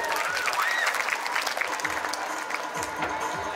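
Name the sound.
audience applause for a girl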